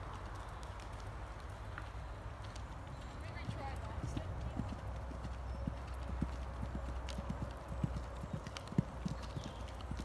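Horse hooves clip-clop steadily around a jumping course, soft and fairly close, with a rider talking over the rhythmic footfalls.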